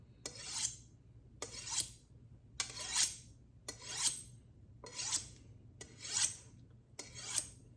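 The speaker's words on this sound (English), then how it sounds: "Kind of keep rotating the steel so that you get a new section each time. And then you just go back and forth." A kitchen knife is drawn back and forth along a honing steel in seven even, rasping strokes, each a bright metallic scrape about a second apart, close and alone over a low steady hum.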